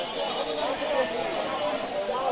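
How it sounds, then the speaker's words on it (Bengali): Goats at a busy rural goat market bleat in a wavering, continuous stretch, with crowd chatter and speech mixed in throughout. "দেখেন বিশাল বড় বড় আকৃতির ছাগল ছোট বড় সব ধরনের ধর্মে ধরনের ছাগলই আছে"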